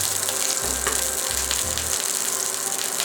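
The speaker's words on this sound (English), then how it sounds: "we're gonna sear these in a cast iron skillet in butter for about 7 minutes per side" Pork chops seasoned with salt, pepper and paprika searing in butter in a cast iron skillet give a steady, close, continuous sizzle with a low rumbling hum beneath, no voices.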